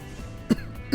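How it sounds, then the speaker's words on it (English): Two short, sharp coughs about half a second apart, close by, against a low steady background hum. "Hopefully next episode, the cough will have gone."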